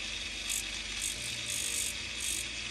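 A rotary machine spins a fine silicone wheel against an acrylic casting pattern of a Porsche 911 Dakar, smoothing away flashing with a steady, close, high-pitched whirring grind that swells and eases in rhythmic pulses, with no talking.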